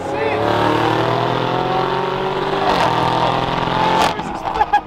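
A twin-turbocharged V8 car engine revs up and accelerates hard, its rising drone close and continuous, then breaks off into scattered noises near the end.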